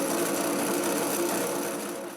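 An electric motor spins through a gear reduction with a steady, close mechanical whir and hum that runs evenly throughout and fades slightly at the end.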